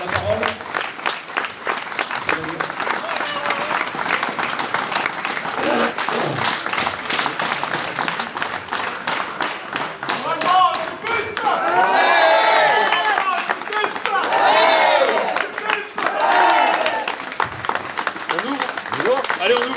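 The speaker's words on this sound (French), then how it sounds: "Je pense qu'on peut vous applaudir tous" Crowd at a Playmobil exhibition inauguration in a small-town sports hall applauds steadily, dense clapping throughout, with cheers and raised voices swelling in the middle and latter part before settling.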